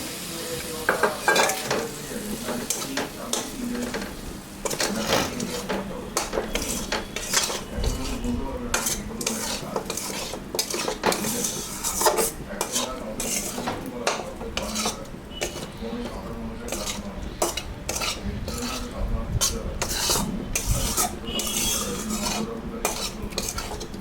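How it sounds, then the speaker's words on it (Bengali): Boiled chicken lollipops stirred in a pan by a grandmother cooking, with steady scraping and clattering of a utensil against the metal over a continuous sizzle, close and busy throughout, no talking. "এটা দিয়ে এখন একটু নাড়াচাড়া করে নামাই দেব"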